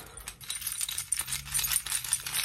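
A set of keys on a keychain jangling and clinking in quick, irregular metallic bursts, close and clear, with no voices.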